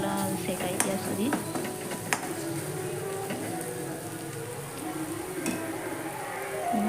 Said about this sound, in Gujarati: એને બરાબર સાતળી લઈશું મસાલો શેકાઈ ત્યાં સુધી.